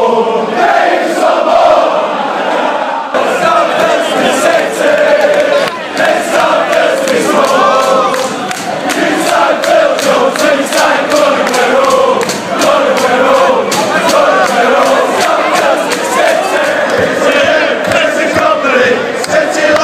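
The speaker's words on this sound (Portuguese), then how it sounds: "Aí, caramba, o Bruno, essa torcida é maluca, Bruno." A football stadium crowd roars and cheers in a Minecraft match, a loud, dense, continuous wall of voices sustained for about twenty seconds, with no talk over it.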